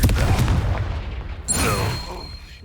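A Confringo explosive spell from Hogwarts Legacy bursts with a booming blast midway, layered over dense game combat noise and a sustained low rumble that tapers off.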